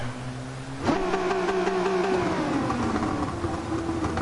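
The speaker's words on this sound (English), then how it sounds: "Let the engine roar for a little bit. You can hear the growl." A car engine in Gran Turismo 7 revs up sharply and then holds a loud, steady growl, with the pitch sliding slowly downward as it settles.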